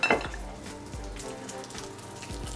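Food sautés in duck fat in a pan, a soft continuous sizzle with scattered pops and crackles and a few light clatters of utensils or pan.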